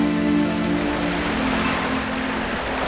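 Autumn rain falls over a city lakeside and roads as a steady broadband wash, with sustained low tones running beneath it the whole time.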